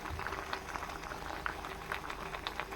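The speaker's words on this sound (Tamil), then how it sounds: "நல்லா கொதிச்சிட்ருக்கு பாருங்கள்." A pot of water with ajwain and cumin, about half a litre for a homemade soup, bubbles at a full rolling boil, with quiet, steady, close gurgling and popping throughout.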